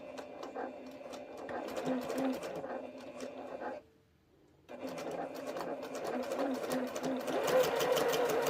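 A sewing machine stitches a modern quilt top, running in steady rapid bursts with a brief pause in the middle before the needle starts again, close and clear.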